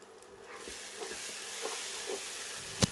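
Chicken and tomatoes for seeraga samba chicken biryani sauté in a pan, a soft, fairly quiet sizzle with occasional stirring scrapes and a sharp clink near the end.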